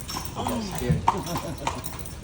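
Carriage horse on a city carriage ride tour, its hooves clip-clopping in a steady rhythm on the street, close and moderately loud, with people talking over them.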